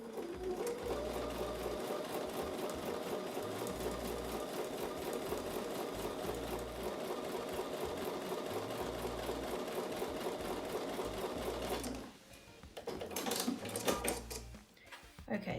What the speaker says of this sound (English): So I'm going to take this over to the sewing machine and sew with a 1/4 inch seam.